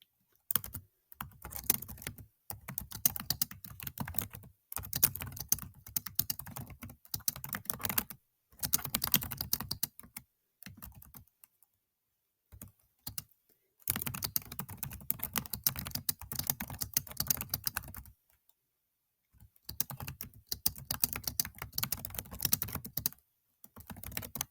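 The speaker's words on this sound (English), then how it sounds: "So you see that when I start typing something in," Quiet, close keyboard typing on a computer, rapid clicking keystrokes in bursts of several seconds separated by brief silent pauses, with no talking.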